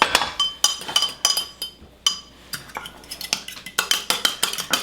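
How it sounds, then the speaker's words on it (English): Eggs are scrambled in a pan over high heat for Japanese fried rice, with a fast run of close metallic clinks and scrapes of a utensil against the pan, briefly pausing and then resuming, with no talk. "You're scrambling the eggs."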